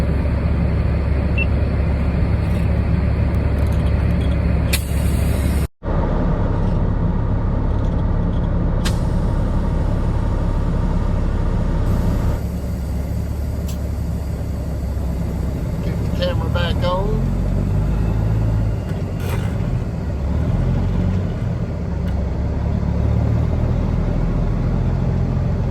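A Peterbilt 379 truck rumbles steadily from inside the cab as it pulls into a small truck stop, with a sharp air-brake hiss partway through and someone talking over the engine.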